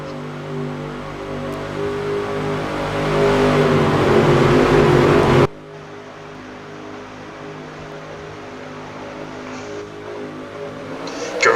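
Race cars in the NASCAR Racing 2003 video game roar as they accelerate at a restart, a swelling pack of engines rising to a loud peak, then cutting abruptly to a steadier, quieter engine drone.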